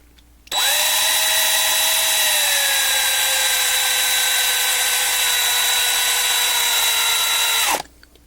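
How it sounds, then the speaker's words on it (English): A small power drill bores out the metal rivet on a 1/64 scale diecast Gen 7 NASCAR model car, a close, loud, steady high whine that starts abruptly, slowly drops in pitch as it bites, and cuts off after about seven seconds. "So let's drill it out."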